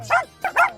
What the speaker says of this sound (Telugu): చాలా కుక్కలు మొరుగుతున్నాయి.